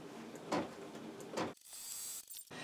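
A domestic sewing machine stitches fabric for a split-colour quilt block: two short mechanical chattering bursts, then a steady quiet whirring run that stops briefly near the end and resumes.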